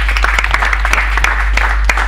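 An audience claps loudly at a school talk show for Holocaust Remembrance Day, with sharp individual claps standing out over a steady crowd wash and a low constant hum underneath.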